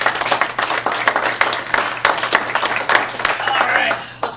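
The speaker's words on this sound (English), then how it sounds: "give yourselves a round of applause." An audience at an ASPCA benefit claps and applauds loudly and continuously, dense overlapping hand claps with some voices mixed in.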